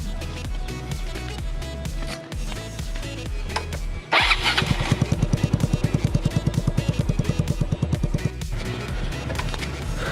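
A Yamaha Mio Sporty scooter fitted with an NB Racing power pipe starts with a brief crank, then settles into a close, loud, rapid pulsing idle that keeps running steadily.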